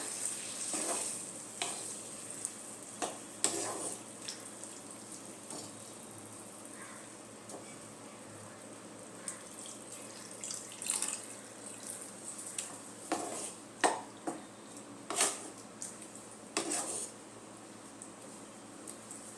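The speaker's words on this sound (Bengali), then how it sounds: "এর মধ্যে এবার আমি জল দিয়ে দেব।" Water poured into cauliflower cooking in spices in a pan, a soft, steady hiss and sizzle with scattered clinks and scrapes of stirring.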